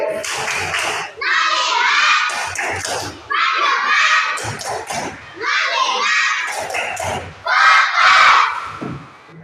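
A group performs the rhythmic concentration clap routine (tepuk konsentrasi) at a 2023 civil servant orientation in Cirebon Regency, with loud bursts of patterned clapping and chanting voices in several repeated phrases.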